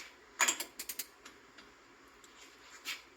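A torque wrench tightens the axle nut on a BMW X5 front wheel bearing job, giving a quick burst of sharp metallic clicks followed by a few fainter clicks and creaks, close and quiet with no talking.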